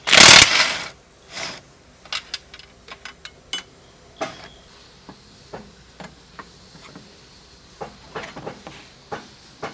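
Wrench working the nut and bolt off a CFMOTO UForce U10 PRO suspension arm: a burst of noise, then a string of sharp metallic clicks and ratcheting taps at an uneven pace, close and clear.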